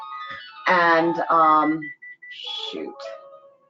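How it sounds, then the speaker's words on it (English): A phone ringtone plays a short electronic melody of a few bright tones, close by, right after a voice speaks. "my phone is ringing"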